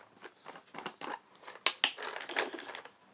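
Kinetic rounds being pushed one after another into a Byrna HD launcher magazine, giving a series of close, sharp plastic clicks and snaps with a brief crinkling rattle between them.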